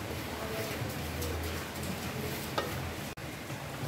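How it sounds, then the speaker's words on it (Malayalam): Avalos podi made with Amrutham powder is stirred as it roasts in a pan, giving a steady, close scraping and soft sizzle with a faint voice beneath. "ഇതൊക്കെ നന്നായിട്ട് ഇളക്കുക കളർ നന്നായിട്ട് മാറി വരുന്നുണ്ട്"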